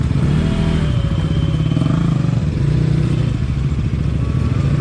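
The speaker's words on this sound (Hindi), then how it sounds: "तेरी बाइक की आवाज़ वैसे इतनी ज़्यादा आ रही है" A motorcycle engine runs loud and close throughout, a steady rough throb with slight rises in pitch, and no voices over it.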